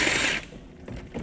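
Wrench turning a cylinder head bolt on a C5 Corvette engine: brief mechanical clicking and ratcheting, close and fairly loud, with no talk.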